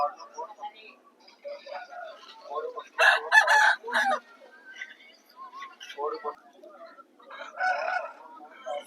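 A native rooster crows nearby at a country-chicken market in Vijayawada, with clucking around it and some voices talking in the background.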